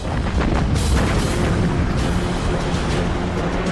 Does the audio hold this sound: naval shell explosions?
yes